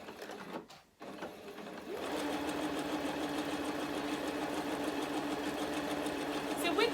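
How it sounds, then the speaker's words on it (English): A sewing machine starts up and runs steadily, stitching fabric for a reversible tote bag after a short back stitch, with a constant close mechanical whir; a few brief handling sounds come before it. "And start my sewing with a little back stitch."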